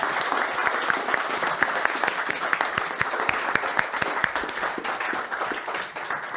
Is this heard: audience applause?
yes